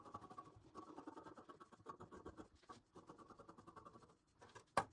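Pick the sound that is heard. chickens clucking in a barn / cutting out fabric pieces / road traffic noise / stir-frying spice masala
cutting out fabric pieces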